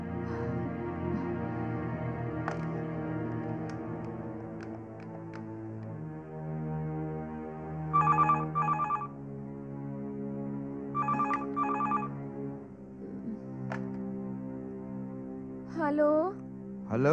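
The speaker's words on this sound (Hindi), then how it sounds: "सुनिए, आप एक काम कीजिए, उषा को फोन कीजिए" A telephone rings in a Hindi TV serial, with repeated double bursts of ringing over a sustained musical background score that fills the scene.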